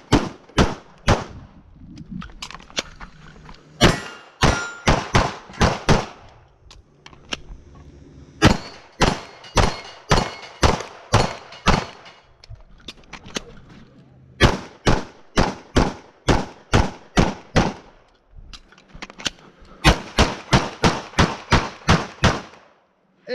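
Pistol shots fired during a USPSA shooting stage, loud sharp reports in rapid strings of several shots with brief pauses between groups, close to the listener.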